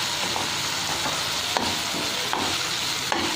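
Ginger garlic paste is stirred into onions frying in a pan for a Tamil quail gravy, giving a steady close sizzle broken by several sharp scraping stirs of the spoon, with no talking.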